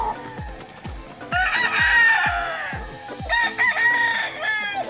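Roosters crowing among a flock of stag gamefowl, several drawn-out crows overlapping close by, with sharp repeated knocks or pecks thudding steadily underneath.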